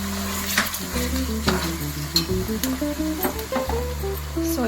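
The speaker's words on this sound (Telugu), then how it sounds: "ఇలా వేగుతున్నప్పుడు మనం జింజర్ గార్లిక్ పేస్ట్ అనేది వేసుకోవాలి. సో వేసుకొని బాగా కలుపుకోవాలి." Ginger garlic paste frying in a pan for chicken biryani while being stirred, a steady sizzle with scraping stirs running under continuous tonal background music.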